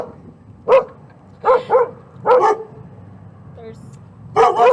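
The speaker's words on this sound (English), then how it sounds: "There's 2 dogs out here." Two dogs bark outdoors in short separate bursts, a single yap followed by a double bark, then another bark and a final pair, fairly close and loud over a low background murmur.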